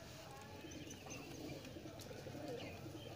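A breeder pigeon coos softly amid steady background hiss and light ambient noise, low and continuous, with faint chirps here and there.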